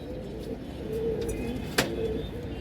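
Australian pigeons coo in low, soft repeated calls against a steady background, with one sharp click near the end.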